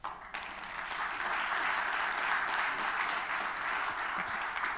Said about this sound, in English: Let's applaud Mr. Akoto one more time.